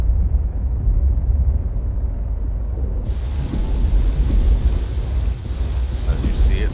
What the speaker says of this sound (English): It's hail hitting the water.